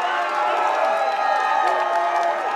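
A large arena crowd at World's Strongest Man 2018 cheers and whoops continuously for a new champion, a dense, loud roar with scattered shouts and some clapping throughout.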